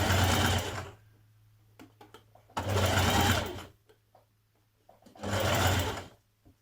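A sewing machine stitches bias tape around a curved pocket on a dress, running in three loud bursts of about a second each, separated by quiet pauses with small clicks.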